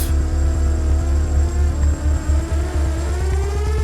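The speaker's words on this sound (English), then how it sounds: "She looked up and saw a drone with a camera hovering over her." A steady, droning motor buzz hangs overhead, its pitch wavering slightly as it hovers without fading, loud and continuous throughout.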